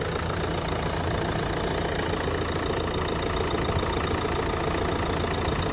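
A 2013 Renault Megane 3 with a 1.5 K9K diesel engine idles steadily up close, a constant even rumble with no change in pace and no voices.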